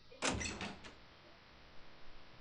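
A door opens in the 999: Nine Hours, Nine Persons, Nine Doors video game, a short sliding rush of sound over a steady low hum of game ambience.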